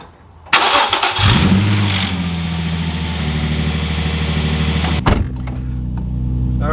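A Nissan 350Z fitted with a 75mm big bore throttle body cranks briefly, then catches and settles into a steady, loud idle, with a second short crank-like burst near the end before idling resumes.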